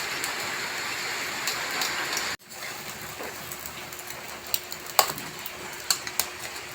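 Steady rain hisses outside, a dense even patter with occasional sharper drips landing nearby.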